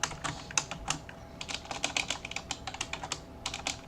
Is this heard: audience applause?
no